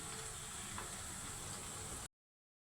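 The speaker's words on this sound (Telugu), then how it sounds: "ఇప్పుడు అల్లం వెల్లుల్లి పేస్ట్ వేస్తున్నాను" Ginger garlic paste sizzles and fries in a hot pan, a steady close hiss for about two seconds before cutting off abruptly.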